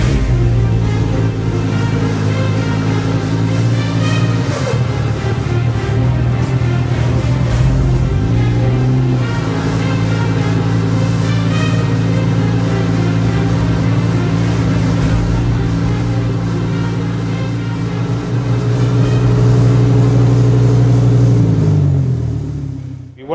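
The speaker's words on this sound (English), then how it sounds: "I'm very confident that we will soon hear the engine running." A Donkervoort D8 GTO sports car engine idles and runs steadily for a long stretch, a loud low rumble with a few revs, then cuts off at the end.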